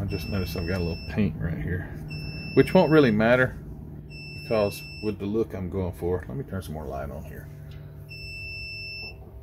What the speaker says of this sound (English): Sorry for the beeping in the background.